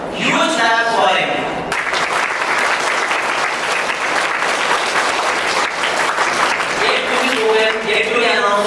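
A school assembly crowd applauds, steady dense clapping that fills most of the stretch, with a voice speaking over it at the start and end.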